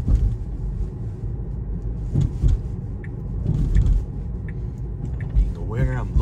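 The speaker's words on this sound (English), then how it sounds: "I'm just gonna let the vehicle drive itself to wherever it needs to go." Interior drone of a car driving itself on Full Self-Driving beta 10.11.1 through a quiet residential street in Toronto, a steady low engine and road rumble with no talk, plus a brief rising whine near the end.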